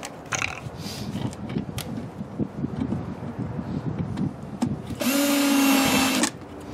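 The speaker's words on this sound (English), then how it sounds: "Now we're ready to put our grates back on. We'll put our screws in." A power drill whirs in one loud burst of a little over a second as it drives screws into the grates of a 9x9 catch basin, after some softer handling noises.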